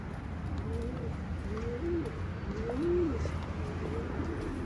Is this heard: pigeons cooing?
yes